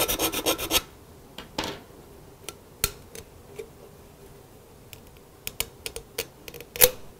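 Rough rasping scrapes of a metal can lid being ground down, a quick run of strokes, then scattered single scrapes with pauses between, close and crisp.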